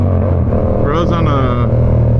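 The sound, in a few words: street legal Honda Grom or Kawasaki motorcycle riding nearby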